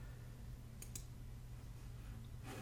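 A couple of quick, faint mouse clicks land close together on a Preview button in a text-formatting editor, over a quiet background hum.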